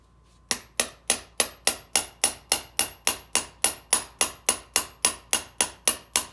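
A hammer taps a brake caliper piston on a 2007 Range Rover Sport Supercharged about twenty times in a quick, steady rhythm, each strike sharp and close with a short ringing decay, no talking.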